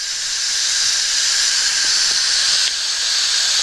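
An Instant Pot pressure cooker venting steam after cooking potato corn chowder, a loud continuous close-up hiss that holds steady throughout with no talking.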